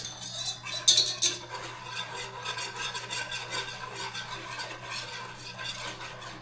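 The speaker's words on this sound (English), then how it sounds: "So stir this for a few minutes." Cheese sauce for homemade mac and cheese stirred in a pot over low heat, a continuous close scraping and swishing of a utensil against the metal with a soft sizzle underneath and a few brief clinks near the start.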